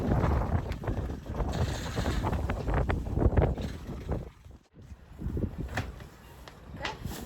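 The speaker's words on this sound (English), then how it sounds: "We're slipping a bit too much down this way with the wind, unfortunately." Gusty wind buffets the microphone aboard a sailboat in rough conditions, a loud rumbling roar that surges and briefly drops away before building again.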